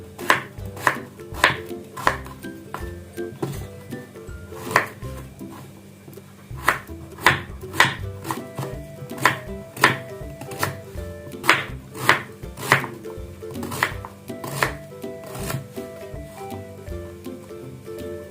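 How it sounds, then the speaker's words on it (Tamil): Beetroot being chopped into small pieces with a knife on a board, a steady run of close, sharp cutting knocks that falls into brief pauses and then resumes. "இப்போ இதை நல்லா நம்ம குட்டி குட்டியாக போட்டாச்சு பீஸு."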